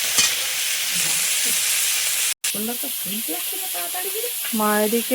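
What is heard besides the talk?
koi fish frying in pan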